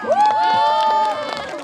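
Children at a campground quiz event cheer and shout in a short burst, one high voice rising over a noisy group, with little clear clapping.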